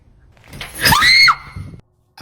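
A woman lets out one loud, frightened scream lasting about half a second as a chandelier crashes down from the ceiling, with a quieter rumble before it and brief noise after.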